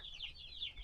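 Faint clucking from chickens packed into a farm pen, a few soft repeated calls at a distance with no talking.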